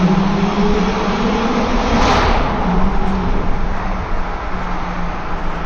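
A BMW M2 F87 with the N55 engine accelerating hard through a tunnel: a loud, sustained engine roar with a droning low tone and a brief rising whoosh midway, echoing steadily and without talk.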